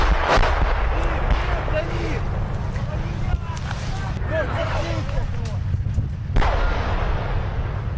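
Artillery strikes a tank ahead on a battlefield in Ukraine, a heavy, continuous booming rumble with a sharp blast near the end, while voices shout close by.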